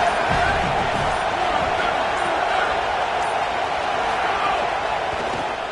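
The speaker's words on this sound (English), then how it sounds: "This crowd ready to make its presence known." A college football stadium crowd roars in a steady dense wall of noise throughout, loud and unbroken, with a commentator's voice blended in.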